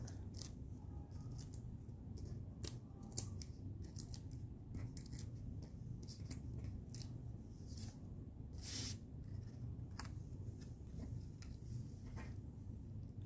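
Repeated short crisp snips of scissors cutting paper, irregularly spaced, close by, over a steady low background hum with no talking.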